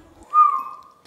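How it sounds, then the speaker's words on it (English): A person whistles a single short note, rising quickly and then holding a clear, fairly loud tone for about half a second before fading, close to the microphone in a quiet room. "Why did I whistle?"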